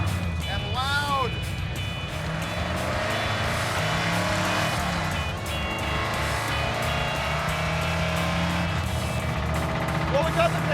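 A Dodge Daytona cruises down the road with a continuous, loud engine drone and road roar filling the cabin, steady throughout, with voices talking over it.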